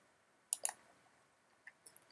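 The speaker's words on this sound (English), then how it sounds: "So with a right click, you leave this tool." A few crisp computer mouse clicks for a right-click, a quick pair close together and then a few fainter, scattered ticks in a quiet room.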